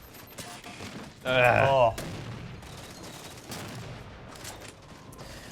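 A short burst of rapid gunfire from a Halo 4 Regicide match on the Complex map rings out loudly for under a second, then fades into low background game noise with a brief exclamation nearby.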